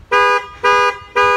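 Car alarm set off by the panic button on the key fob, three loud, even horn blasts in a steady on-off rhythm, close by and alone.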